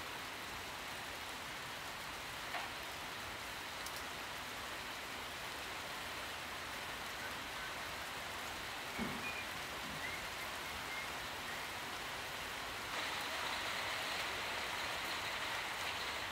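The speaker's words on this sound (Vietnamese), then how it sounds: "Trời đang mưa to quá nên tôi đứng ở trong quay ra nhé." Heavy rain pours steadily outdoors at a garden, a constant dense hiss of falling water that stays even throughout and swells slightly louder toward the end, with no voices.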